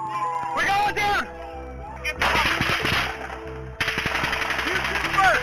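Automatic gunfire caught on a police officer's body camera during a shooting, a loud rapid burst of shots in bursts over harsh, clipped background noise, with voices shouting nearby.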